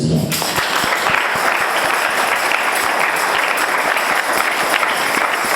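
A church congregation bursts into loud, sustained applause to acclaim the Lord, dense clapping from a full hall that starts abruptly and carries on steadily throughout.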